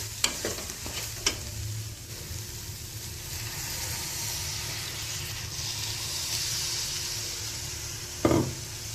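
Soya chunks curry simmers and fries in a pan, with a low steady sizzle and hiss, a few scraping stirs near the start and a louder knock of the spoon against the pan toward the end.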